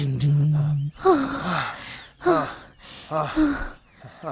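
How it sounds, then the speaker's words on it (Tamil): Heavy, rhythmic panting breaths with gasping, voiced edges repeat in quick bursts, close and loud, preceded by a brief held vocal tone. "எங்கேயோ மூச்சு வாங்குற சத்தம் கேக்குது"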